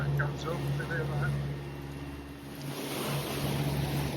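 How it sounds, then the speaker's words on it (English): A sailing boat motors under engine power at sea off the calm, windless east side of Fuerteventura, a steady low engine drone with faint water wash, close and continuous. "we're having to motor because there's no wind on this east side of Fuerteventura"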